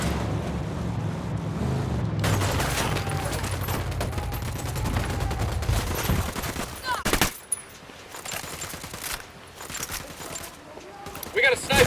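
Rapid bursts of automatic gunfire and shots ring out in Ghost Recon Wildlands, loud and dense, with voices calling out over the firing and a lull before more shots near the end.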